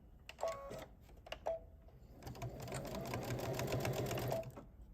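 A domestic sewing machine stitches a clean seam around a piece during a ScanNCut stash-busting project, with two short bursts early on, then a long steady whirring run of stitching, close and fairly loud.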